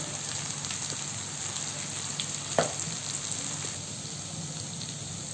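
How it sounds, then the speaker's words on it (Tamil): Steady sizzling of spices frying in hot oil for sambar, a constant crackling hiss close by with one brief clink, no talking. "வதக்கிக்குங்க. 1 நிமிஷம் போல் வதக்கிட்டு"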